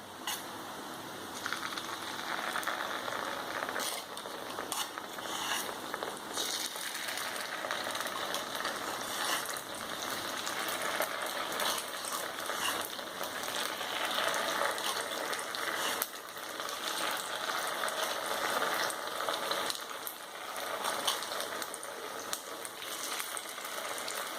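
Kuzhi paniyaram batter cooking in a pan, a continuous close sizzle and crackle of frying that holds steady without talk.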